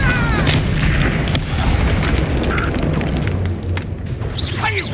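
Bombarda blasting spell in Hogwarts Legacy, a heavy booming explosion with a rumbling tail. Cracks of spell effects and brief voices sit over it.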